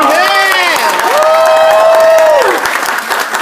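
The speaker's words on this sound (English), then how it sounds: "So how about another round of applause for Dr. Cabantog?" Audience applause and cheering at a marketing plan presentation in Thailand, a loud continuous crowd sound carrying a bright, sustained rising and falling tone.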